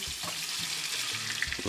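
Sirloin tip browning in canola oil in a skillet gives a steady, close sizzle and hiss with faint low knocks from handling the meat.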